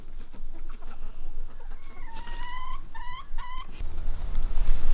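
Chickens clucking in a backyard flock, a clear near bird giving a rising run of repeated clucks over a background of other hens and outdoor noise.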